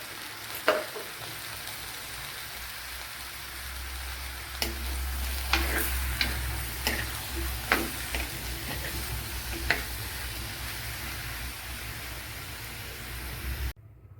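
Sliced okra frying in a hot pan with salt, a steady close sizzle broken by scattered clicks and scrapes of stirring, ending abruptly.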